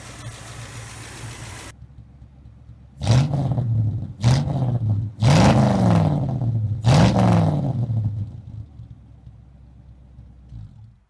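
A 1977 Ford F100 engine, freed after being badly stuck, idles with a low steady rumble. It is revved four times in quick bursts, each swelling and falling back to idle, close and loud, with no talk.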